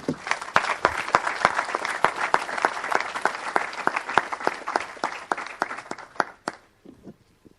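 A church congregation applauds and acclaims God with fast, dense clapping that carries on for about six seconds, then breaks off into a few scattered claps.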